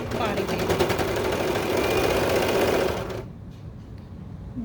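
A serger sewing machine runs steadily, stitching an elastic waistband onto a baby bummies body panel with a fast, even mechanical whir, then stops abruptly after about three seconds, leaving quiet room tone.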